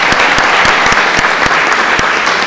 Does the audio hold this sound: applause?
yes